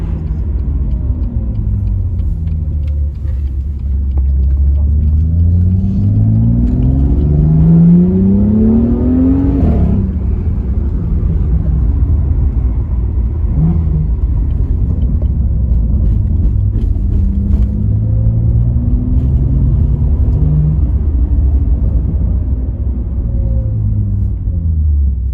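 A BMW M2's engine heard from outside revs repeatedly, a loud deep rumble with rising and falling sweeps of revving that swell and ease over a steady idle.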